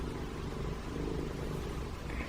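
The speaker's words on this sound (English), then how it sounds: "Oh, you hear my cat purring?" A pet cat purrs close by in a steady, low rumbling drone that runs continuously and alone, with no talk over it.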